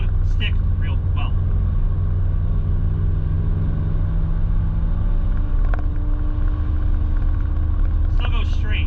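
A car engine running steadily in third gear while driving on a road, a loud continuous low rumble with a few faint knocks and rattles over it.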